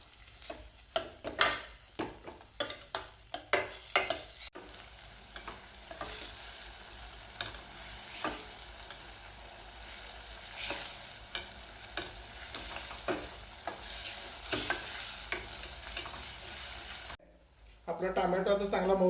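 Chopped tomatoes with salt fry in a pan for a chicken kat-vada masala, a steady close sizzle broken by spoon stirs and scrapes, while a person talks over it.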